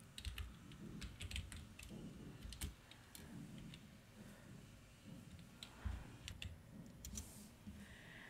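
Keys clatter on a computer keyboard as a website search is typed into Google Chrome, a quiet run of irregular close taps and clicks with brief pauses, with no speech.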